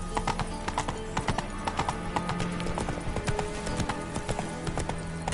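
Hooves of Roach, a horse in the video game The Witcher 3, clip-clop in a steady rhythm under a continuous background of game ambience and music.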